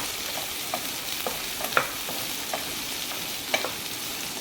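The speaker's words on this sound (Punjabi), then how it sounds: "ਪਿਆਜ਼ ਪਾ ਕੇ ਵੀ ਆਪਾਂ ਹਿਲਾ ਲਵਾਂਗੇ ਇੱਕ ਵਾਰੀ" Onions frying in a pan for aloo palak are stirred, a steady soft sizzle with a few light scrapes and taps of the spoon, close and even throughout.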